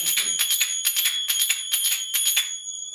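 Finger cymbals (zills) played up to speed in a quick galloping rhythm, bright metallic clinks in clustered groups with a lingering ring that fades out alone at the end.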